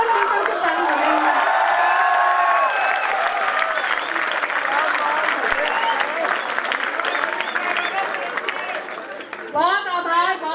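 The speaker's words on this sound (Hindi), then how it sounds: "एक बार पूरा सदन मिलकर के ताली बजाएंगे।" A full hall audience at a Hindi poetry recital (kavi sammelan) claps loudly and continuously, with some cheering and scattered voices mixed in, and a voice rising near the end.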